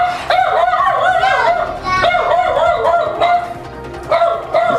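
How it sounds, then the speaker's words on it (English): A dog barks repeatedly close by, sharp yelping barks in quick clusters with short pauses between them, loud and alone with no talking over them. "What would you do to make that barking stop?"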